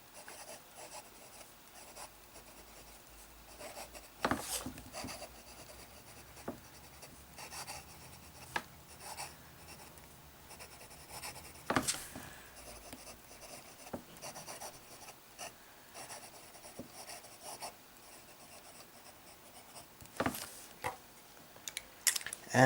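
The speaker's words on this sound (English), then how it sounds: "So let us start with a bit of fine writing." A fountain pen loaded with J. Herbin 1670 Bleu Océan ink writes in a fine hand, its nib giving a soft continuous scratch across paper with occasional sharper ticks and rubs, close and quiet with no talking.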